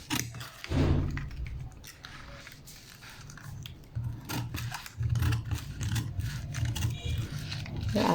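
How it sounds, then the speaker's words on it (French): Scissors snip and scrape through paper while cutting out a women's bodice pattern, starting at the shoulder, in repeated close crunching strokes with short pauses between cuts. "Je coupe d'abord l'épaule."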